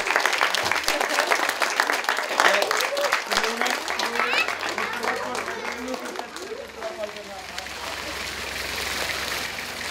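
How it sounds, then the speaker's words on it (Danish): A group of people clapping together, a dense patter of hand claps carrying on for several seconds, loud at first and easing off, with children and adults talking over it. "Kan vi blive alle sammen klappe, Simone?"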